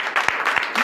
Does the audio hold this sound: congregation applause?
yes